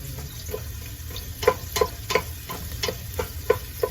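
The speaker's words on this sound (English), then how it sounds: "So we're gonna fry the onions here." Onions frying in a pan for a Rasta pasta and coconut curry chicken meal, a steady close sizzle broken by irregular sharp crackles and ticks, with no voices.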